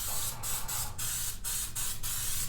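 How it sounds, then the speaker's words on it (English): Coconut oil sprayed into a cast iron pan in repeated hissing bursts, about seven quick sprays in a row broken by short pauses, close and loud without voices. "We're going to spray our pan with coconut oil."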